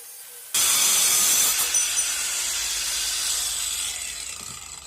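An angle grinder bites into material for a second cutting pass, starting abruptly with a loud, steady, hissing abrasive whine that gradually fades slightly while the cut continues, close up.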